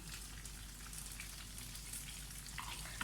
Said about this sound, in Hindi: अभी मैं इस तरह से कबाब फ्राई करके निकाल